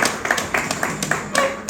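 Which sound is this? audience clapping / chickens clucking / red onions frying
audience clapping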